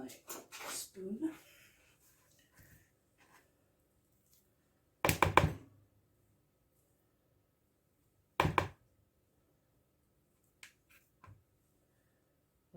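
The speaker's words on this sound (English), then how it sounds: "I need to scrape my spoon" A spoon scraped clean against a bowl of snack mixture during packed-lunch prep, heard as a few short, sharp knocking scrapes spaced apart, fairly close, with quiet gaps and a little talk early on.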